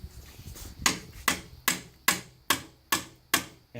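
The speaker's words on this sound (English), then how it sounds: "And then all I would do is use my hammer" A hammer drives a wooden stick wedge against a loose electric compressor motor to tighten belt tension, giving eight sharp, evenly spaced strikes close by, each ringing briefly before the next.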